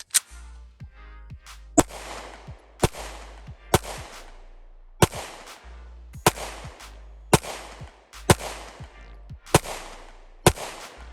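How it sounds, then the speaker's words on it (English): Canik TP9 Elite SC 9mm pistol fired in a slow, steady string of about a dozen sharp, loud shots, each followed by a brief ringing decay, with no talking between them. "Hang with me while I shoot this a little bit more"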